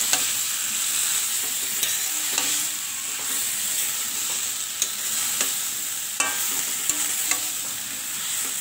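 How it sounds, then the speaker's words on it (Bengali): Boiled jackfruit and potato stir-fry in a spice masala. A steady, close sizzle runs throughout, with sharp scraping clicks from a spatula stirring the pan at irregular intervals. "এবার আমি এর মধ্যে সেদ্ধ করে রাখা এঁচোড় আর আলুটা দিয়ে দিচ্ছি। খুব ভালো করে এটাকে কষিয়ে নেব।"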